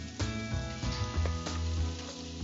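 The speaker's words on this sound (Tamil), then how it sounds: "நம்ம இந்த கலந்து வச்சிருக்கிற காடையை அதுல போட்டுடலாம்" Quail goes into a frying onion and tomato masala with a steady close sizzle and bubbling crackle that fills the whole short stretch, no voices.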